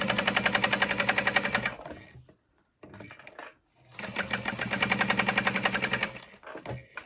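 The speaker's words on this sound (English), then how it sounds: "The sound of my machine is probably that it needs to be oiled" Domestic sewing machine top stitching the sides of a backpack, running a little rough for lack of oiling; two close, rapid stitching runs separated by a short pause and a brief quiet stretch.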